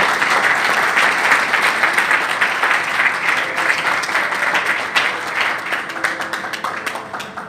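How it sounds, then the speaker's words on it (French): An audience gives steady, full applause to encourage someone speaker addressing the Congolese public. The clapping stays continuous and fairly loud throughout. "Est-ce que vous ne pouvez pas m'applaudir pour m'encourager?"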